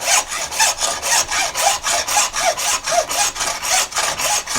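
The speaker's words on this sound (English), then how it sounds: "the first thing I want to do with the big saw is to come in, and anywhere that I can cut off a hunk" A large hand saw rasps through bone while a fish hook is carved, with steady back-and-forth strokes about two per second. The sound is close and loud, with no talking.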